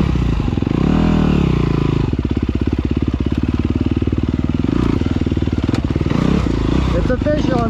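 A motorcycle rumbles loudly and close throughout, its engine pulsing in a rapid steady throb with brief revving swells as it is ridden over rough trail, with faint clatter near the end.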